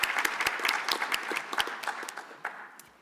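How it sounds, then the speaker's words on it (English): Applause for a conference panel at a national space conference plenary session, a dense crowd of hands clapping steadily and fading slightly toward the end. "A round of applause, please, for the panel."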